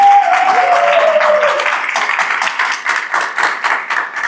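Audience applauding a participant on a dating game show, a dense burst of clapping that starts full and thins toward the end, with a brief tonal sound at the start.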